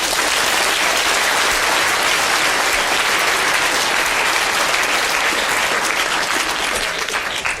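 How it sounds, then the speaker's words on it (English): A lecture-hall audience at a Royal Institution talk gives a big round of applause, a loud, dense and continuous wash of clapping that runs evenly throughout with no speech over it. "Why don't you give yourselves a big round of applause?"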